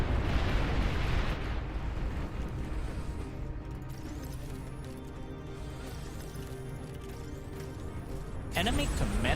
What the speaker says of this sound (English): Those cowards have a long-range plasma cannon.